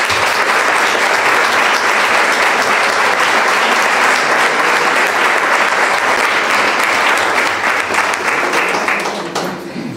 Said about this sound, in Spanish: Os voy a pedir un fuerte aplauso para todos ellos